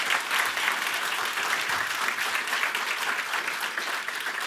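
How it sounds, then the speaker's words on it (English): An audience at the DDD Perth 2022 developer conference gives a round of applause to a speaker, steady dense clapping sustained evenly throughout, fairly close and without voices on top. "And can we give another round of applause to Alexander?"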